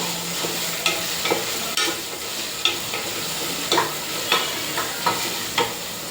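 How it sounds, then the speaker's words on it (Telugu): Ginger garlic paste fries in oil for a biryani, making a steady sizzle punctuated by regular, sharp scraping taps of a spoon stirring the pan. "అల్లం వెల్లుల్లి పేస్ట్ అయితే బాగా ఆయిల్లో ఫ్రై అయిపోవాలి."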